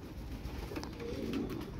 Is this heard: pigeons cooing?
yes